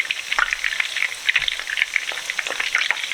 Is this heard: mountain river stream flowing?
no